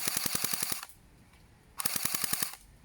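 A repaired Echo 1 GAT airsoft gun with a tuned electric gearbox test-fires two short, rapid full-auto bursts of buzzing clicks, separated by a brief quiet pause.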